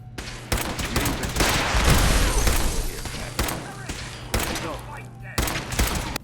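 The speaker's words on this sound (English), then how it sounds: "They got inside and started shooting gunners." Dense, sustained firefight in Fallout 4 inside Greentech Genetics, with gunfire rattling continuously and sharp louder shots punctuating it. Voices talk over the shooting.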